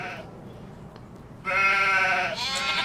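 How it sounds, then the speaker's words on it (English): Sheep bleating on a farm where goats are also kept: a faint call early on, then two loud, close, wavering bleats back to back over quiet outdoor ambience. "And sheep are getting fat. They're doing well. So are the goats."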